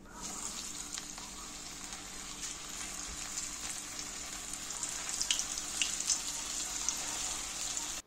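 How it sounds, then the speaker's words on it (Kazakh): Floured zander fish sizzles loudly in hot oil in a pan, a steady close crackle with scattered sharper pops and spits throughout. "Алғашында қызып тұрған майға балықты салған соң қатты пышырлаған дауыс шығады."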